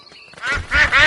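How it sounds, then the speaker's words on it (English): Cartoon ducks quack in loud, overlapping bursts that swell in the second half, clustered closely together with no talk over them. "Oh, it's the ducks."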